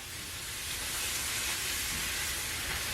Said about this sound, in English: I'm going to saute it right in that broth.